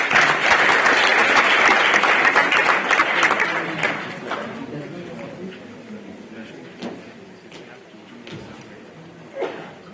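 An audience at a health workforce investment forum bursts into loud applause, which gradually thins and fades to scattered claps and faint room noise over several seconds.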